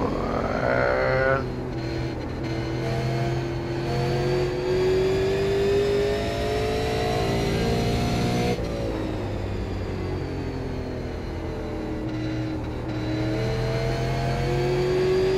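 A super late model race car engine in the iRacing game drones and revs steadily, pitch climbing through gears, with a sharp shift midway; loud, continuous, no talking.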